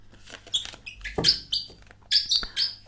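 Small birds chirp and tweet close by in quick, high-pitched bursts, several calls overlapping.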